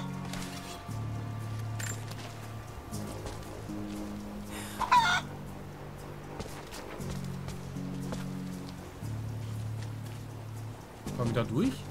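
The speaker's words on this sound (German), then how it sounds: "Aber Hühnchen." Chickens clucking in the video game Rise of the Tomb Raider, soft repeated clucks in a steady game soundscape with a low droning tone, while someone talks over much of it.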